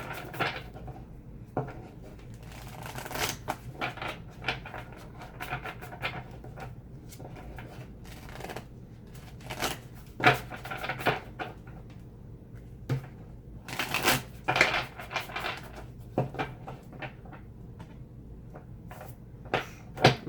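Tarot cards being shuffled and pulled by hand, with a steady stream of soft riffling, flicking and slapping close by, quiet and continuous with no talking.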